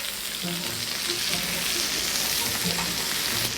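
Shrimp heads frying in butter in a pan, a steady loud sizzle with some stirring scrapes throughout, no voices.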